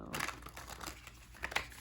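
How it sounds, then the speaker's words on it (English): Tarot cards being shuffled in a freshly reset deck give soft, rapid papery riffling and crinkling, close and quiet, with no talk. "I'm trying to get a good shuffle in because I did reset my decks"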